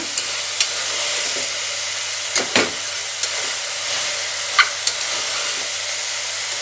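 Sliced bitter gourd frying in oil in a pan for a home-cooked palya: a steady, bright sizzle throughout, broken by a few sharp clicks and scrapes from stirring, close and with no talk.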